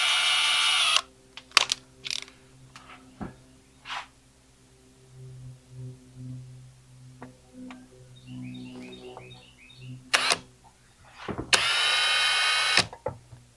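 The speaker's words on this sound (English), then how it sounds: "let me get a smaller drill bit and start with that first" A power drill whirs in several short bursts, loud and close, drilling thin metal, with pauses and small clicks and handling noises in between.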